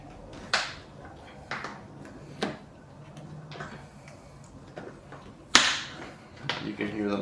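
Plastic tabs popping loose as a seat cover is pulled off a BMW F80 car seat: several sharp, scattered clicks and snaps over soft rustling handling noise, close and fairly quiet.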